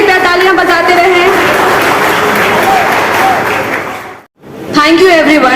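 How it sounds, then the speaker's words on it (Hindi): An audience claps steadily at a chemical sciences seminar at CM Science College, a dense, loud wash of applause with voices over it, breaking off briefly near the end before resuming. "कृपया तालियों की गड़गड़ाहट बंद नहीं होनी चाहिए, कृपया तालियां बजाते रहें"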